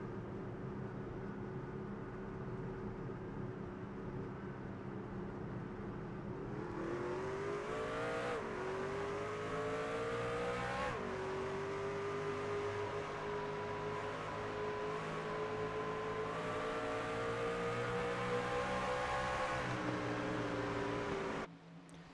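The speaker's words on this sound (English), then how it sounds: "Let's see if he can come up through these gears clean" A race car in a Scrambler Series event at Red Light Racing winds up through the gears after a restart, engine pitch climbing steadily with several shift dips, a loud, continuous drone at close range, with no voices.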